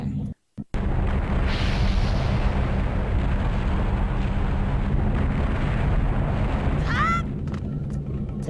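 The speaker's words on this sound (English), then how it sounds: "I just jumped right into a pillar of fire." A pillar of fire roars in Zelda: Wind Waker, a loud, continuous whooshing blaze that bursts in after a brief gap and rumbles steadily, with a rising chime near the end.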